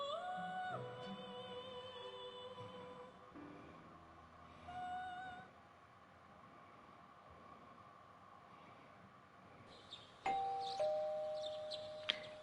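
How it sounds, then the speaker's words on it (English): A doorbell chimes inside the video game Persona 4 Golden, its tones ringing clearly over soft background game music, with a second brighter burst of chimes near the end. "You hear the doorbell ringing."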